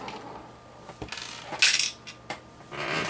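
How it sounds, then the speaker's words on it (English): Small PC case screws get knocked over and scatter across a hard surface, several bright metallic clinks and rattles in quick irregular bursts, close and fairly loud. "I'm knocking my screws all over the place."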